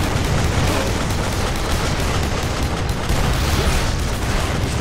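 Dense, loud gunfire and explosive booms in Duke Nukem Forever, a continuous roaring wall of shots and blasts without pauses.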